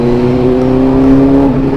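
An old big motorcycle engine revving hard and close, a loud sustained drone with a steady pitch that dips slightly near the end, heard alone without talk.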